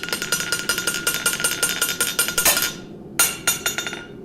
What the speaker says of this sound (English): I'm going to find a way of rattling the anvil here.